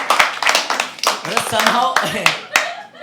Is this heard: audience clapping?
yes